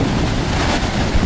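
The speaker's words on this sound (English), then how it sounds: "Waves are too high and too many rocks." High surf breaking on a rocky Pacific Ocean beach north of Bodega Bay, a steady loud wash of crashing waves mixed with gusting wind noise, no voices.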